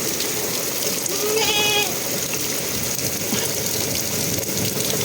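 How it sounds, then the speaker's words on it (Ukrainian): Steady rain falls as a dense, even hiss, with a brief high animal call rising through it partway. "Як це добре, що дощик пішов."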